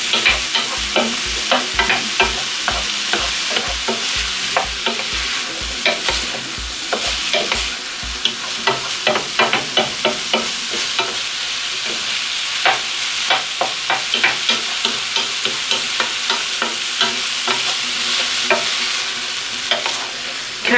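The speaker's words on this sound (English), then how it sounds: "And then you just stir that up, stir it in, mix it up." Vegetables for a tomato passata are stirred in a sizzling frying pan, with repeated scraping and clacking strokes of the utensil over a steady frying hiss, loud and close.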